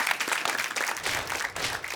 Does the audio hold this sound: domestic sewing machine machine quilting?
no